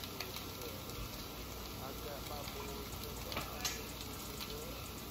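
Bacon frying in a pan crackles and sizzles continuously with dense small pops, close and steady, with a faint voice in the background.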